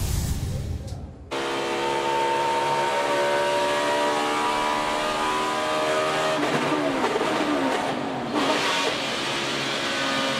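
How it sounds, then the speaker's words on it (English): Loud, high-revving NASCAR Cup Series race car engine at Pocono that self-destructs on a gear shift at about 12,600 RPM, a sustained harsh roar with a crackling burst partway through, briefly dipping near the start. "That was the sound of an engine self-destructing as it went to second gear,"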